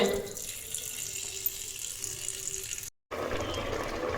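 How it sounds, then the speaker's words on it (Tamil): Water runs steadily from a tap into a tank, a continuous splashing rush that briefly cuts out near the end before resuming. "விஷ்ணு டேங்கில் தண்ணி இல்லை தண்ணி போட்டு விடுங்க"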